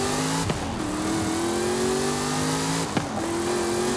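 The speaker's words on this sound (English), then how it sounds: "How loud this car is." A loud car engine drones and revs steadily in Forza Horizon 5, pitch climbing between two quick gear shifts, with no talking.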